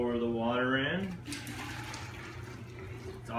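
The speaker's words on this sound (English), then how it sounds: "pour the water in." Water pours into a pitcher of sweetened lemonade with a steady, bubbling gush under a speaking voice, running for about two seconds before the talk resumes.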